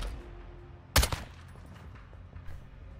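A single sharp gunshot burst cracks loudly near the one-second mark in Call of Duty: Modern Warfare II, followed by a faint, distant shot later amid low game ambience.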